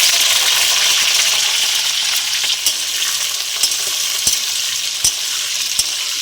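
Large-cut onion pieces sizzle loudly in hot oil with cinnamon, cloves, bay leaves and black pepper for a chicken masala, a steady hiss broken by occasional sharp clicks of the spoon.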